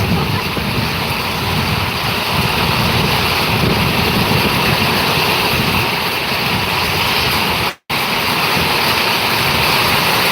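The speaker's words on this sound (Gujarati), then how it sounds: "મોટર ચાલુ" A water pump motor runs during a heavy downpour in Chavand, Gujarat: a loud, steady broadband rush of motor and gushing water, continuous throughout with one brief dropout near the end.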